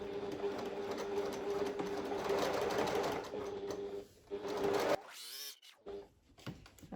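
A sewing machine stitches a seam of roughly one centimetre on a fabric pouch, giving a fast, even mechanical whirr with a regular needle pulse, heard close up for about five seconds before it stops and leaves quiet handling noises.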